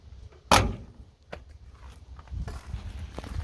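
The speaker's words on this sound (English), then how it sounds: "Factory fits on the door latches and locks." Door latch on a 1971 Ford F250 highboy truck clicks shut in one sharp, close thud, followed by a few faint knocks and light handling noises.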